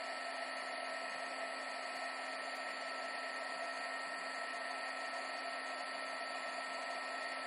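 Heat tool blowing steadily while heat-setting acrylic color on a gourd, a constant, fairly loud airy whine with a fixed pitch and no breaks and no talking.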